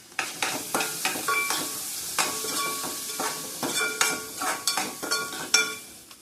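Spices get stirred through a frying pan, with repeated clinks and scrapes of a spoon against the metal over a soft, low sizzle, close and fairly quiet.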